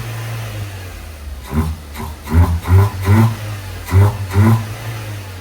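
A VW Polo Vivo 1.4 engine close by, idling with a low hum and then revved in about five short, punchy bursts one after another.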